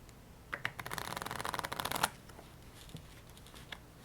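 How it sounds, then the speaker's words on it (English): Double-backed playing cards being shuffled in a quick riffle, a dense flutter of crisp snaps lasting about a second and a half, followed by a few soft taps. "And then you're going to shuffle the cards together,"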